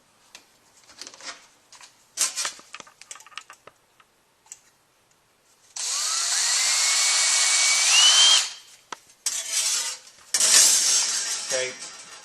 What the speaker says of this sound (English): when we drill it out to 110 thousandths, which is a number 35 drill bit